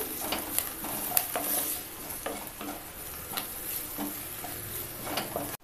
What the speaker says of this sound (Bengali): চিকেন কিমাটা আমাদের পুরোপুরি ফ্রাই হয়ে গেছে